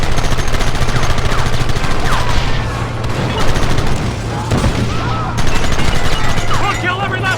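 Rapid bursts of gunfire fill a Red Dead Redemption shootout, dense and loud, with overlapping shots, booms and in-game shouting throughout.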